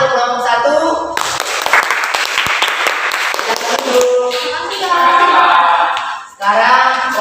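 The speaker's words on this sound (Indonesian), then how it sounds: "Tepuk tangan untuk kelompok 1." Classroom applause for a student group fills most of the clip, steady clapping with voices and a harmonic tone over it, briefly dropping off near the end before resuming.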